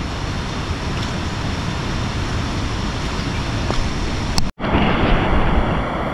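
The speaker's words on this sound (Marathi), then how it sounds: "आणि बघा कसला वॉटरफॉल दिसतोय" A waterfall and a rushing river in forest near Karjat make a steady, loud, broadband roar that continues without pause, with no voices over it.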